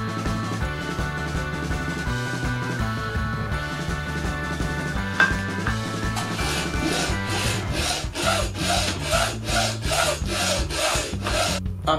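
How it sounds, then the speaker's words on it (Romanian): Hand sawing cuts through wooden handles for a homemade suspension trainer: steady back-and-forth rasping strokes, close and clear, quickening into a regular rhythm toward the end with no talking. "Am tăiat cele două mânere."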